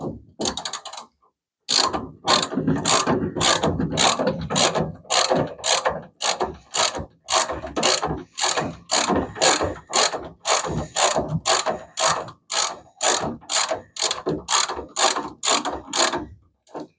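A ratchet wrench clicks in rapid, evenly spaced bursts while tightening bolts during master cylinder installation on a 1974 Plymouth Duster, loud and close, with a brief pause near the start before a long regular run of sharp clicks.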